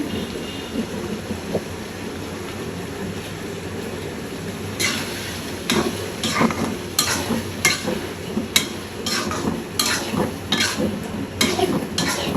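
Spiced fish-oil curry with tomato and green chilli being stirred in a pan, a low cooking hiss, then a run of repeated scraping strokes against the pan in an uneven rhythm, close and fairly loud.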